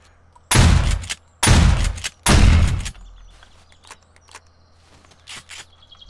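A shotgun fires three heavy booming blasts at a zombie in the game 7 Days to Die, each roughly a second apart and fading into a low rumble, followed by quieter scattered clatter and thuds.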